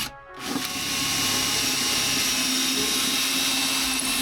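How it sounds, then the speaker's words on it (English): A power drill bores a small pilot hole up through the floor of a camper van from underneath, a loud steady whir that starts after a brief pause and runs continuously. "drill one small pilot hole from the bottom up and see how close I got to my mark here"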